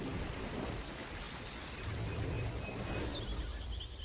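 Heavy rain pours steadily over the tropical forest of Mount Salak in Java, with a low rumble of thunder rolling beneath it and a faint bird call near the end.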